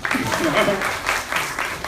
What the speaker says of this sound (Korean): 박수 쳐주셔야 되는 거 아니에요?